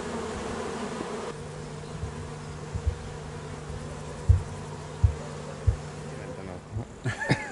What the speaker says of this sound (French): Cette abeille, créée à Buckfast, dans le Devon,